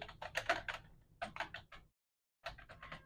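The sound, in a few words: typing on a computer keyboard in Excel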